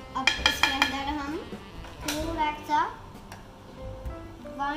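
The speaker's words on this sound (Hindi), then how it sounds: "चम्मच से सब कुछ मिक्स कर देंगे।" A spoon clinks and scrapes against a bowl while bread pancake batter is mixed, producing bright, repeated taps and scrapes up close. Speech can be heard alongside the clinking.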